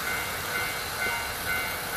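Steady rumbling train ride in the video game Nostalgic Train, a constant, even rolling drone with a low hum and no distinct clacks, filling the scene without voices.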